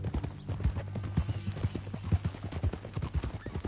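Horse hooves clip-clop in Red Dead Redemption 2, a steady, close rhythm of hoof strikes over a low background rumble.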